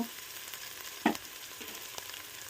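A pan of frying onion masala with turmeric sizzles quietly for chicken biryani, a low continuous hiss broken by a sharp clink of a spoon against the pan and light stirring.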